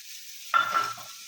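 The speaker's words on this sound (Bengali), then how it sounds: "গাজরটা দিয়ে দিলাম বিনসটা ফুলকপিটা পরে একটু কষিয়ে নিই" Carrot, beans and cauliflower sautéing in a pan, with a brief burst of stirring and sizzle that starts abruptly and fades after about half a second, over a soft steady background.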